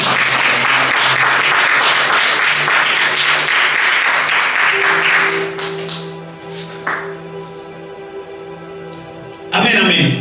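A church congregation applauding in a dense, loud burst of clapping that fades into scattered claps and a voice with a held tone, then swells briefly again at the end.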